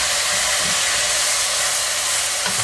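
Collard greens in a pot with a splash of water hiss with steady, loud steam throughout, a constant broadband rush with faint low bumps underneath.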